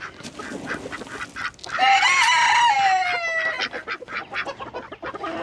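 Backyard chickens and ducks squawk and cluck excitedly while being fed, with one loud crowing call rising in the middle amid continuous nearby flock chatter.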